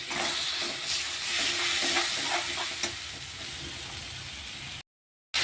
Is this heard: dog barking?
no